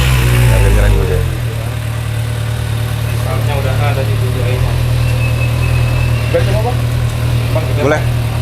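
A 2024 Kawasaki ZX-6R motorcycle engine runs at a steady, loud idle, a low continuous rumble lasting throughout while several people talk over it nearby.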